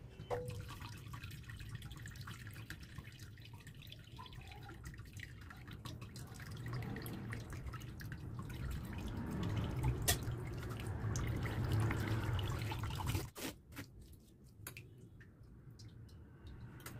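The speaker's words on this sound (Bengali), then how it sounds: "একটা ছাঁকনির সাহায্যে ছেঁকে নিচ্ছি, ছেঁকে জলটা আলাদা করে নেব।" Whey drips and trickles steadily from curdled chhena straining through a kitchen sieve, a soft continuous liquid patter that swells slightly before cutting off near the end.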